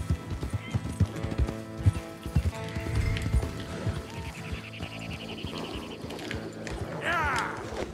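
Hooves clip-clopping from several horses in the Red Dead Redemption 2 video game, with a neigh rising near the end, set against game music and ambient sounds.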